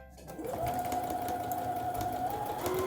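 A sewing machine runs in one steady, continuous burst, stitching closed the side seam of a handbag's fabric lining. The motor hum starts after a brief quiet moment and holds close and even to the end.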